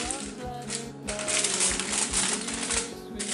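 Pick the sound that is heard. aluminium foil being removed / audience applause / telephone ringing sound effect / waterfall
aluminium foil being removed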